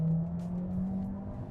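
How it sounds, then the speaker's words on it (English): Volkswagen Tayron engine straining as the SUV pulls away from a stop, with a steady, strained drone and hum at moderate loudness that holds without breaks. "the engine does sometimes sound like it's doing a lot of work"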